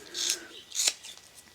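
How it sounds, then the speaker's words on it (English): Scissors trimming excess rubber from Darkroom Door rubber stamps, two short crisp snipping bursts close up, with a fainter third cut trailing after. "you can always use your scissors and go in later and just remove any pieces of rubber"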